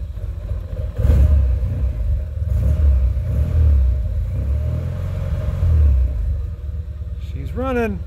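An older car engine fires up on the choke after the key is turned and settles into a rough, rumbling idle that swells and dips. It sounds close and loud, and voices are faintly present.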